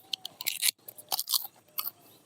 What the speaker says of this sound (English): It's very good to eat and very crunchy, as I'm sure you can hear.